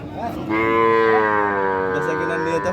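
A Holstein Friesian heifer at a Bangladeshi cattle market gives a single long, loud moo, close by, sustained for over two seconds with a steady harmonic drone.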